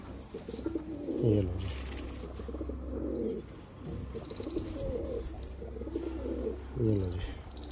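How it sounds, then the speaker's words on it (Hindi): Pigeons coo in repeated soft, throaty phrases spaced a couple of seconds apart, close by, with someone briefly speaking early on. "देखो भैया ये कबूतरी खड़ी है। ठीक है, ये आ गया कबूतर।"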